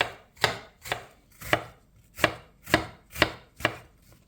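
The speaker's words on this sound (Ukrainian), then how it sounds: "Тепер нарізаємо яблучко соковите" A knife chops through a juicy apple on a cutting board, eight crisp evenly spaced cuts close by with quiet gaps between them and no talking.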